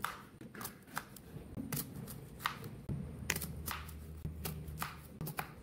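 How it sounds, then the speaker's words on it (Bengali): A knife cuts peeled mango into small pieces, giving a steady run of soft, close chopping taps on a board at an irregular, quick rhythm. "এখন আমি আম কেটে নেব।"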